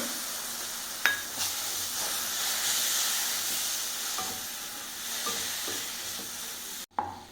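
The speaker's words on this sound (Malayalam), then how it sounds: "നന്നായിട്ടൊന്ന് ഇളക്കി കൊടുക്കുകയാണ് ഞാൻ" Prawn pickle masala stirred in a pan, soft continuous sizzle with a few scattered scrapes of the spoon, fairly quiet and close, ending in a sharp clunk, no talking.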